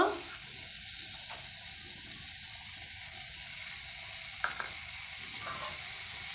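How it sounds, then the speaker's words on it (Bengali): Drumstick pieces frying in a pan with a little salt: a continuous, even sizzling hiss, close and steady throughout, with a few faint stirring scrapes and no talking. "ভালো করে ভেজে নেব এইভাবে।"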